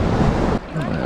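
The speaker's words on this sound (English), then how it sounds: "there's some waves over in that rocky zone" Ocean waves wash against a rocky stretch of shore at Brewers Bay beach on Tortola: steady, close surf noise with wind buffeting, broken by a brief drop before the wash resumes.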